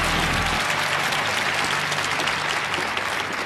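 A studio audience on a Chinese job-hunting TV show breaks into dense, steady applause that stays loud and even throughout, with no speech over it.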